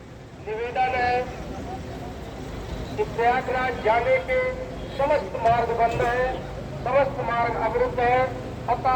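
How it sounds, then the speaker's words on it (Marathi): Car horns toot repeatedly over a steady traffic rumble in a long traffic jam on roads to Prayagraj during the Mahakumbh, with people talking and a loudspeaker announcement in the background. "आपण बघतय की इतकं ट्रॉफिक जाम आहे"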